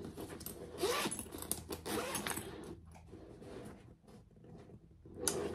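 Zipper pulls on a handmade Carlotta commuter bag rasp in several quick bursts as the bag is handled nearby, with quieter gaps and a final short zip.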